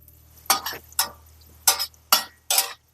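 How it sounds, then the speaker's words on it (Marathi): Crushed garlic and cumin going into hot oil, heard as a few separate stirring scrapes and brief sizzling bursts about half a second apart, close and fairly loud with quiet gaps between. "त्यानंतर लगेचच आपण लसूण घालून घेतोय लसूण आपण ठेचून घेतला लसूण थोडासा परतून घेऊया"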